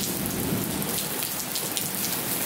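Steady rain pours down during a thunderstorm at an outdoor cooking spot, a dense continuous hiss of drops striking surfaces with no voices over it.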